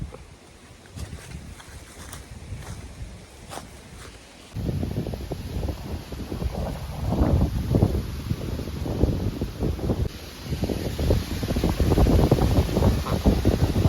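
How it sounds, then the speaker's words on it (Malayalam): Gusty wind roars and buffets close to the microphone on a high hillside, quieter at first, then jumping louder and surging in uneven blasts. "കാറ്റ് പിടിക്കുന്ന ഒരു ഏരിയ ആണ് ഹൈറ്റുള്ള ഏരിയ ആയതുകൊണ്ട്"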